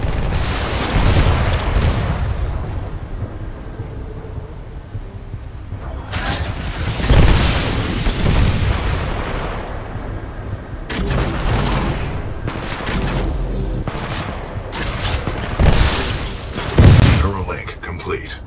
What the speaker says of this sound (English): This shoulder-mounted rocket pod will lock onto multiple enemy targets.